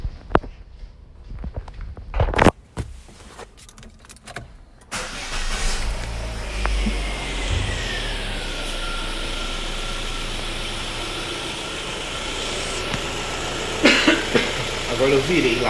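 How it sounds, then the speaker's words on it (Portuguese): Chevrolet Sonic engine cranking and catching after a battery drain, then settling into a steady idle close to the microphone, with a few clicks and handling noises before the start. "Agora dá a partida lá para o carro pegar."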